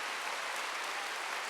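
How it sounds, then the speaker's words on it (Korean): Church congregation clapping hands together during a Korean Wednesday worship service, a dense, even burst of applause heard alone at moderate level, filling the room without pauses. "박수 좀 세게 쳐봐요."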